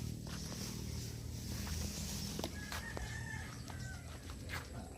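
Chickens at a Filipino fishpond farm, with soft clucking and a few brief calls over a steady outdoor background hum; no distinct loud crow stands out.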